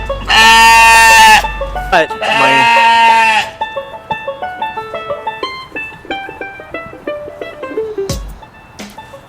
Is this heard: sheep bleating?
yes